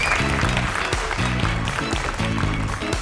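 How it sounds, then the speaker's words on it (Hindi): Audience applause for the last contestant in a school competition, a lively burst of clapping heard close and fairly loud, with music-like tonal bursts woven through it throughout. "तालियां हो जाएं हमारे आखिरी प्रतियोगी"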